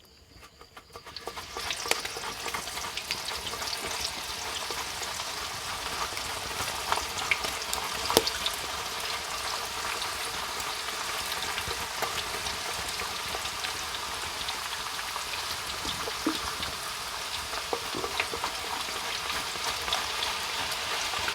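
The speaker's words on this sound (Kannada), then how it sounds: "ಇದು 10 ರಿಂದ 15 ನಿಮಿಷ ಫ್ರೈ ಆಗ್ಬೇಕು ರೀ. ಚಲೋ ತಂಗ ಫ್ರೈ ಆಗ್ಬೇಕು ರೀ ಇದು." Banana slices deep-fry in hot oil outdoors, a dense continuous crackling sizzle like heavy rain that swells in over the first two seconds and then holds steady, with occasional louder pops.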